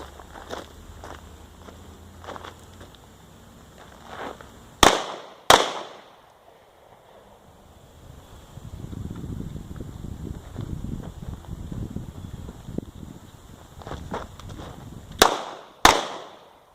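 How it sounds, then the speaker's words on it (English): Gunshots from an HK USP Compact LEM pistol fired at targets from 7 yards, two loud sharp reports close together, then a quieter stretch with rustling and movement, then two more sharp shots near the end. "1 round on each target from 7 yards, starting at 90 degrees."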